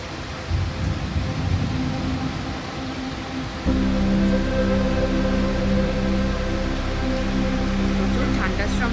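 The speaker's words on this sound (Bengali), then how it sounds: "অনেকদিন পর আবার আজকে ঝড় বৃষ্টি হচ্ছে, কালবৈশাখীই হচ্ছে।" A nor'wester thunderstorm brings steady rain and a deep, low rumble that grows louder and fuller partway through. The storm stays continuous and enveloping, with no voices over it.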